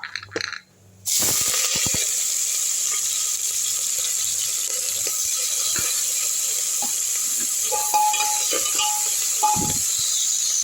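Shallots and curry leaves drop into hot oil with popped mustard seeds and start sautéing: after a brief quiet moment, a loud, sustained sizzle and crackle fills the pan, with occasional clinks of a spoon.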